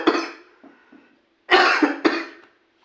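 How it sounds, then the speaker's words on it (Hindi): A person coughs several times up close: a harsh burst and a couple of smaller coughs, a pause, then two more forceful coughs. "खांसी कुछ ज्यादा तेज नहीं आने लगी?"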